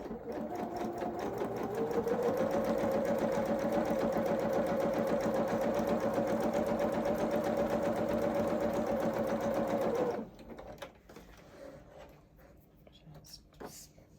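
A sewing machine runs continuously for about ten seconds while fabric pieces are chain pieced, feeding one after another. The steady whirring stitching is loud and close, then it stops and a few soft handling sounds follow.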